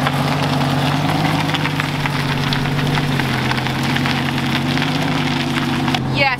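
Lamborghini Gallardo engine idling just after starting, a steady low rumble with a continuous even hum, close and constant throughout, with a short noisy scrape at the end.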